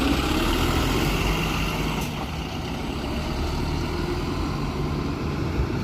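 A bus pulls away on the Leeds guided busway by a park and ride site, heard as a steady, fairly loud diesel engine rumble with a brief dip before it settles again, with no speech.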